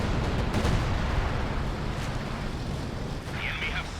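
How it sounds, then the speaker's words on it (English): An artillery barrage in Company of Heroes 2 on the Hill 400 map rumbles with dense, overlapping booms and crackling impacts, a continuous heavy battlefield roar with a few sharper blasts. "Assault artillery coming on in."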